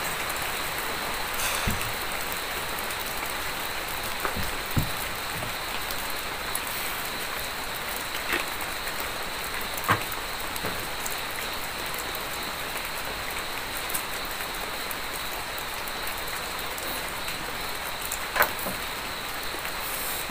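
Steady rain falls at a camping spot in the cold. It makes a continuous dense hiss for about twenty seconds. Scattered sharper drips and taps stand out now and then, and no one speaks.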